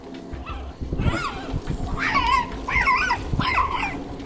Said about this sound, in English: That dog hates me.